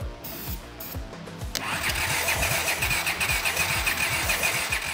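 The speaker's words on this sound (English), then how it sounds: "Ready to start this motorcycle?" A cult-classic Honda motorcycle, just freed from a seized engine, cranks over with rhythmic low pulses. It then catches and settles into a steady, loud, throbbing run close by.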